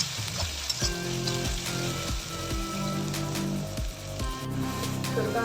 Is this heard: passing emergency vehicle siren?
no